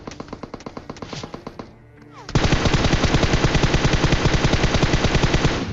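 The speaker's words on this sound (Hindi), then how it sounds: "उसने ऑटो फायर स्टार्ट कर दिया था" Automatic gunfire in PUBG Mobile, rapid evenly spaced shots in a fast loud burst, a short pause, then a denser and louder sustained stream of full-auto fire that runs to the end.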